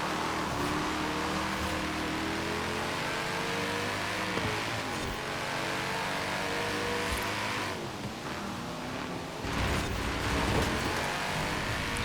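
Car engine in Forza Horizon 4 revving steadily as the car slides across grass while racing a Charger, a continuous loud drone with shifting pitch and brief dips.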